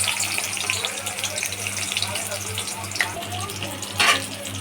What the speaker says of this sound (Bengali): মুরগি রান্নার জন্য কড়াই বসিয়ে দিয়েছি দিয়ে দিলাম পরিমাণ মতো তেল এখন দিয়ে দিচ্ছি পেঁয়াজ